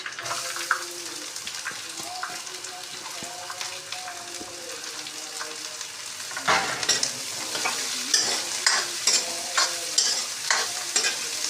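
Garlic and onion fry in a pan with a steady sizzle, then louder rhythmic scraping strokes of stirring join the sizzle in the second half, close by.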